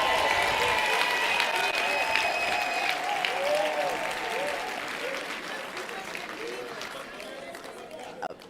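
A conference audience gives a sustained round of applause for a speaker, dense and steady throughout and gradually easing, with voices faintly calling out over the clapping.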